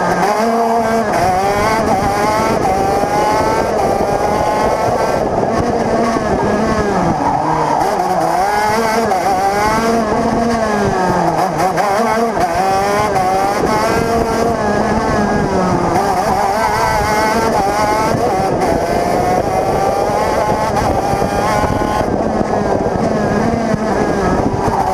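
Onboard racing kart engine after a carburation change, screaming loud and close throughout, its pitch climbing and dropping repeatedly through gear-free acceleration and corner lifts, with no talk.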